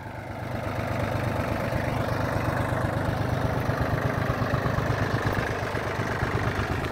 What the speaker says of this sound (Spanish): Y luego por allí el tractor Yanmar